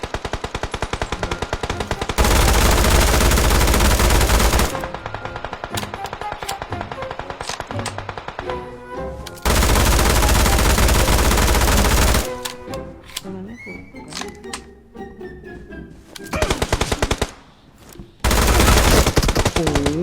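Dual P90 submachine guns fire in long, dense automatic bursts during a video game, loud and close, broken by short pauses, with voices chatting between the bursts.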